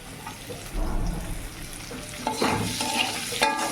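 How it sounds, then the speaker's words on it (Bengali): Onions go into a pan and are stirred while frying for potol posto, with close scraping and rustling spatula strokes over a soft sizzle. "এবার পেঁয়াজগুলো এতে দিয়ে দেবো"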